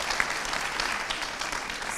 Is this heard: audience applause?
yes